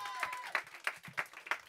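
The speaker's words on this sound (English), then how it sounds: "One clap. One clap." A group clapping together in unison, several sharp claps landing at a steady, even beat, fairly close and clear against a quiet background.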